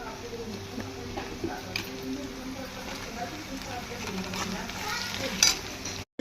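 Onions and tomatoes frying in oil in a home kitchen, cooked for chicken and biryani, with a steady broad sizzle and occasional scraping stirs of a spatula, fairly close, while background voices murmur faintly.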